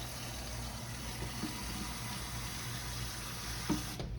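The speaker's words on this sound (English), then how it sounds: "I might have to add a little bit more water to fill it up" Water runs steadily from a tap into a pot with a constant hiss and low hum, a couple of small clinks near the end.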